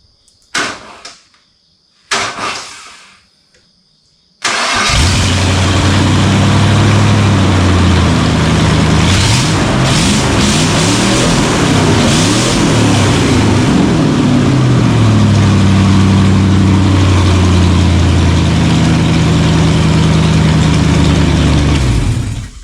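A 1996 Ford Explorer engine, running without a cab during a body swap, starts after a few brief clicks and whirs, then settles into a loud, steady, close-up idle that continues for about eighteen seconds.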